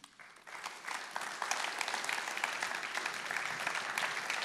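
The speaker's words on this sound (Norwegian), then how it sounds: "vi gir en applaus til panelet" Audience applause for a debate panel at a Norwegian public discussion on the EEA agreement, rising quickly from silence into steady, fairly distant clapping from a crowd that holds evenly to the end.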